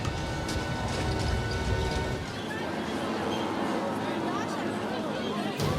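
Dense crowd babble echoing in a large hall at Kramatorsk railway station, crowds awaiting an evacuation train, with rumbling machinery and metallic rail noise underneath.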